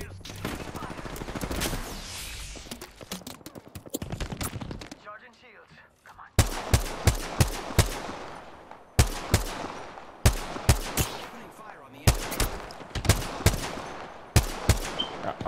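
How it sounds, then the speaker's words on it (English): Enemy gunfire in the video game Apex Legends: repeated loud volleys of shots, mostly close, with a brief quieter gap before the bursts resume in regular clusters; a voice talks over the early part. "Yep, they're shooting at me."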